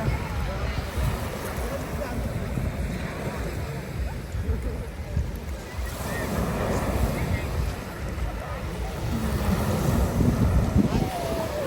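Rough sea surging onto a shore, a steady broadband wash of breaking waves with wind buffeting the microphone, swelling slightly louder toward the end.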